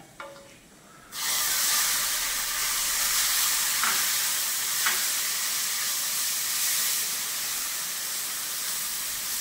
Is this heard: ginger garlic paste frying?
yes